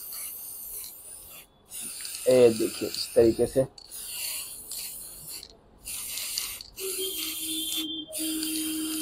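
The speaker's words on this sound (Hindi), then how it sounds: "अब इसके ऊपर में ब्लैक स्प्रे कर देंगे" Black spray paint hisses from an aerosol can onto a handmade LED photo frame in a few broad bursts separated by pauses, with someone speaking briefly in between.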